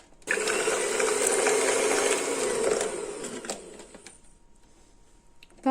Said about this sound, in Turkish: Öncelikle bu üç malzemeyi iyice bir çırpalım.